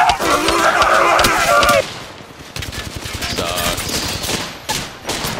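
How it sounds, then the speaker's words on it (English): Gunfire in an Apex Legends match as two enemy squads shoot at once: dense, loud bursts of rapid automatic fire, then sparser scattered shots, with no talk. "I've got two different squads shooting me"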